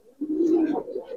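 A Giribaz pigeon gives a single short, low cooing call, close and fairly soft, with nothing else audible around it.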